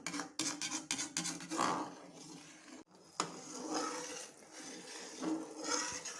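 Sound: stirring coconut milk in a pan while making coconut oil

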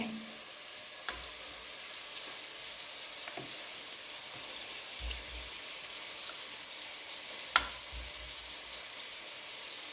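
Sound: spices sizzling while tempering for biryani

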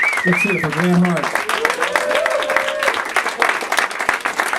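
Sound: audience applause after a live concert

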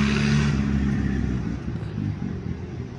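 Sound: Farmall tractor engine revving while hill climbing

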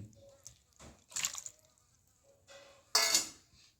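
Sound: washed chicken being added to spiced pot

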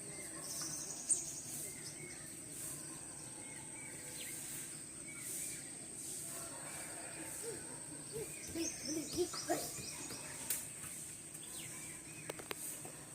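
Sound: birds in the morning near trees

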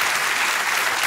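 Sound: audience applause

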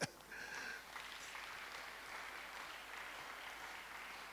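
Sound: audience applause

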